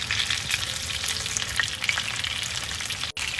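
Chicken frying on low heat in a pan gives a steady, close sizzle with scattered small crackles and pops throughout, no voices.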